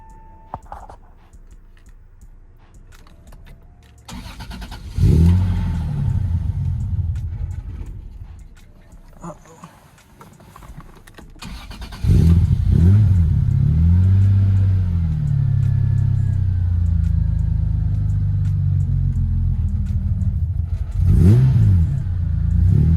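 A car engine that won't hold its own idle after an alternator and tensioner belt were refitted, loud and close, surging and revving in long sustained bursts with dips between, no talk.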